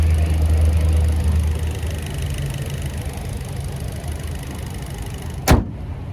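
A 2024 Hyundai Kona SE's 2.0-liter naturally aspirated four-cylinder engine idles with a steady low rumble and broad hiss, and a single sharp click sounds near the end.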